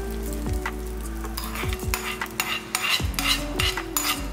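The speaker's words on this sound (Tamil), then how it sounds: "பாருங்க, கடுகு நல்லா பொரியட்டும்" Mustard seeds popping in hot oil for a tempering, with rapid irregular crackles and pops over a constant sizzle, plus a few sharp metallic clinks of a spoon against the pan, close and fairly loud.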